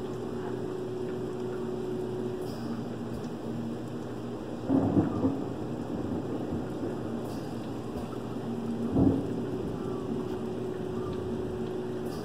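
Steady rain patters continuously while thunder rumbles twice, a low roll swelling briefly and fading back into the downpour.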